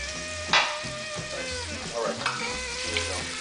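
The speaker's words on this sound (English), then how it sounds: "while this is getting sauteed" Tequila chicken empanada filling sautéing in a pan, a steady soft sizzle broken by a few sharp clinks and scrapes of stirring, close up and alone without talk.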